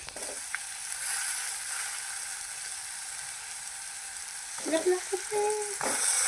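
Carrots, cashews, potatoes and other vegetables frying in a pressure cooker for masale bhaat, a steady close sizzle with clattering and scraping of pieces dropped in and stirred near the end.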